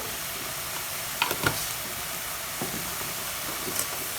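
Steady low sizzle of bitter gourd sautéing in a frying pan, with a few soft clinks of a spatula stirring, no voices.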